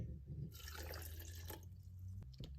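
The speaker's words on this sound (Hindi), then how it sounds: "इसके अंदर 1/2 कप पानी डालेंगे।" Half a cup of water poured into a blender jar holding dates makes a quiet splashing stream for about a second, then a few soft drips and faint handling noises.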